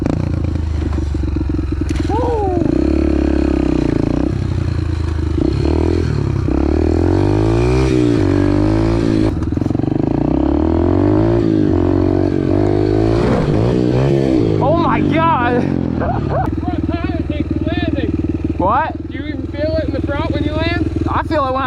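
A Yamaha TTR dirt bike engine revs hard through third gear, its pitch rising and falling in repeated surges and climbing close and loud, with people talking over the noise at times.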